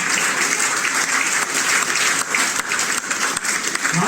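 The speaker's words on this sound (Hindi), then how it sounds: "एक बार जोरदार तालियों के साथ सागर सम्मान करें भाई कमलेश जी का" Sustained, dense applause from a live audience honouring poet Kamlesh Jain, steady and fairly loud throughout with no break.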